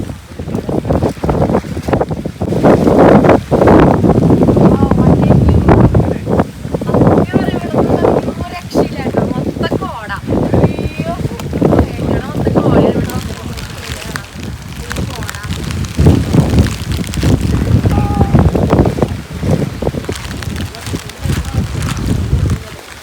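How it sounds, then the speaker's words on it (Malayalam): Strong wind and rain at a campsite with cabins: loud, gusty roaring that buffets the microphone almost continuously, rising and falling in waves, with voices heard at times. "നല്ല കാറ്റ്. എന്താ കാറ്റും മഴയും"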